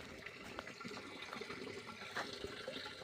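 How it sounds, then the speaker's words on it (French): Small stream flowing along a forest path at night, a steady soft babble of trickling water with faint splashes, moderately distant and quiet. "Je reconnais le petit ruisseau."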